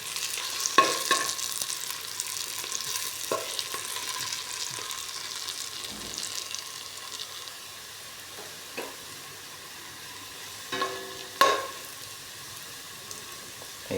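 Shrimp fry in a pan with a steady, quiet hiss and crackle, broken by occasional soft clinks and a couple of louder stirring clatters toward the end.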